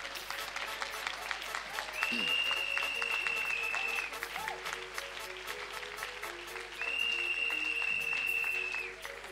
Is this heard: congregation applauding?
yes